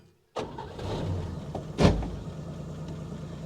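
A 1961 Chevrolet Biscayne, left sitting in a junkyard for over 30 years, cranks and fires, its engine catching with a loud burst and then settling into a steady idle nearby.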